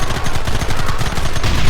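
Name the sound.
gunfire in the video game Red Dead Redemption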